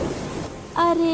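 Steady heavy rain with thunder in an animated cartoon, a dense rushing wash briefly joined by a cartoon voice near the end.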